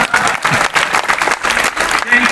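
An audience at a Hindi poetry recital claps in thick, continuous applause, loud and close, rippling with uneven swells for a couple of seconds.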